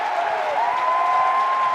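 A crowd cheers and roars steadily at a Texas vs Tennessee college baseball game at Lindsey Nelson Stadium, as fans rise during a two-strike count; dense, continuous, loud crowd noise with a sustained whistle tone running through it.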